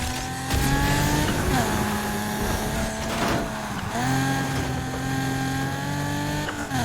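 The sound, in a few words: car drifting with drift tires in Need for Speed Heat video game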